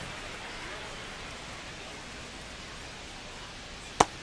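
Steady rain falling on a baseball stadium in MLB The Show 25, a constant even hiss throughout, broken by one sharp click near the end, with no talking.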